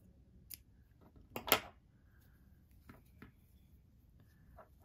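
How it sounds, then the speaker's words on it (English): Scissors snip through yellow yarn during crochet work: one crisp cut stands out among a few faint clicks and handling noises in a quiet room. "I'm just going to cut off my yellow yarn"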